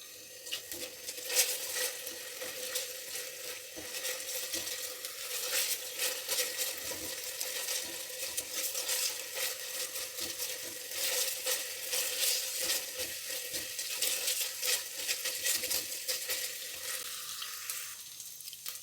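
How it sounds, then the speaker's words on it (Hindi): Ingredients and paste for chicken soup fry in a pan with a steady, close sizzle that keeps crackling for the whole stretch with no voices. "इसको 1 से 2 मिनट आपने अच्छी तरह फ्राई करना है।"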